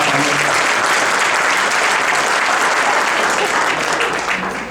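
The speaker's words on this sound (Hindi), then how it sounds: "एक बार जोरदार तालियां हो जाए।" An audience at a Hindi comedy poetry gathering in Phoenix, Arizona claps loudly and steadily, a dense wash of applause from a full room that fades slightly at the end.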